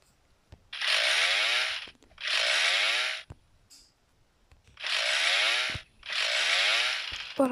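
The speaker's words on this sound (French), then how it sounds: "je viens d'avoir la tronçonneuse" A chainsaw in the Roblox game 99 Nights in the Forest, buzzing in four long bursts of roughly a second each with short gaps between them, close and loud, with no talking.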